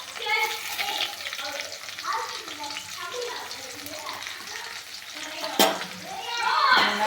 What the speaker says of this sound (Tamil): வெங்காயத்தை நல்லா வதக்கி எடுத்துட்டு வந்துடலாம்.